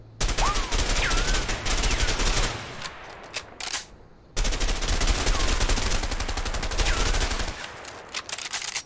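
Gunfire in the video game A Way Out: two loud bursts of rapid automatic shots, each lasting a few seconds with a short pause between, and faint in-game noise in the gap.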